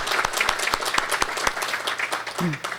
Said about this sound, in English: Let's give them a round of applause for the hard work they've done for this